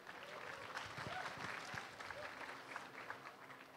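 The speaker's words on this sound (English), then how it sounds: "Anna Rose, can we give her a round of applause?" An audience at a talk gives a round of applause for a team member, a moderate, fairly distant patter of clapping sustained for several seconds with some voices mixed in.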